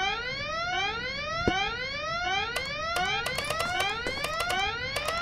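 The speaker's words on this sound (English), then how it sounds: "Why did that alarm go off again?" An alarm in Deponia 3: Goodbye Deponia wails in repeated rising sweeps, loud and continuous, with sharp clicks and clanks cutting in over it.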